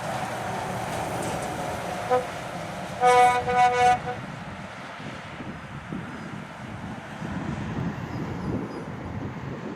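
A Volvo truck passes on the A17 amid steady road rumble and wind noise, with a short burst of horn toots midway.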